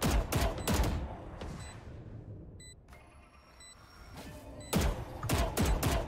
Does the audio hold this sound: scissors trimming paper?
no